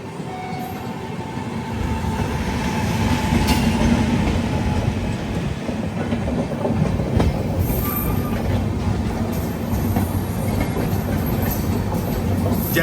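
The Pinakini Super Fast Express, train 12711, runs toward Chennai Central. A steady loud rumble of carriages rolls throughout, heard from on board, with faint rhythmic wheel clatter and occasional high squeals. No speech is heard.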